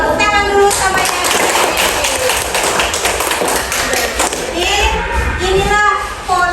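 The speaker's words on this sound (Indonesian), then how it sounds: "Kasih tepuk tangan dulu" Students in a classroom clap in ragged rhythm while children's voices chatter and call out over the clapping, close and fairly loud.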